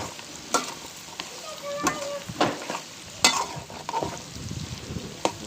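Garlic and fat-tail sheep (dumba) meat sizzle in a karahi for a Shinwari-style dish while a spatula stirs and scrapes the metal pan in irregular clinks, steady and close with no talk.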